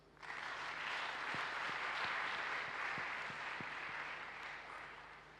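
Steady, loud applause from a congregation during a church worship service, sustained and dense for about five seconds with a few sharper claps standing out near the middle.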